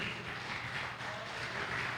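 A church congregation claps together in a steady, fairly faint wash of applause that continues throughout without pause.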